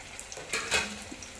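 Soft, steady sizzling of small onions frying in oil in a pan, with a couple of brief stirring scrapes partway through.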